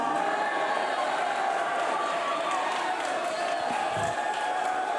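Wrestling event crowd in New York City cheering, a broad, sustained roar of many voices that holds steady across the arena, with some shouts rising out of the mass.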